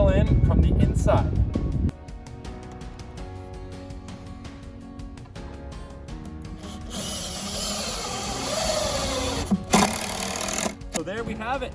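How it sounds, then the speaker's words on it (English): A power drill whirs in repeated short bursts, driving into the wood of a raised garden box from the inside, its motor revving and slowing as it drives in, with a voice talking over it early on. "then we're going to drill in from the inside"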